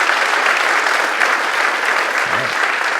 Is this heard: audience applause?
yes